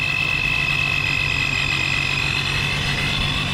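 A Ford Mustang engine fitted with a Procharger supercharger runs in a steady, even idle, with a close, constant rumble and a thin high whine above it and no rise in revs.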